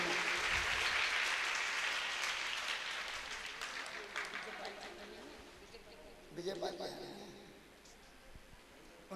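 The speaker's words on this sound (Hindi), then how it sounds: "ताली बजा के स्वागत करें।" At a Balaji temple devotional event, an audience claps in welcome. The applause starts loud and dense, then fades into scattered claps with some background voices, and a brief flurry of clapping returns near the end.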